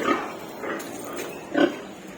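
A pig squeals in several short, close bursts while being given an injection, the grunting cries spaced unevenly over about two seconds.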